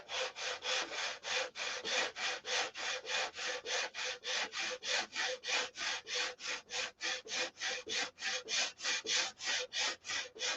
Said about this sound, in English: So you got to keep sanding until it's gone.